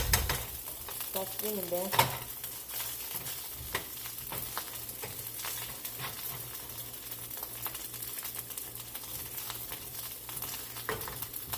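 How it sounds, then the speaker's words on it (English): Corned beef hash frying in a pan, a steady crackling sizzle with scraping and shuffling as it is pushed around with a spatula, and a brief spoken phrase near the start. "Just moving it around with the spatula."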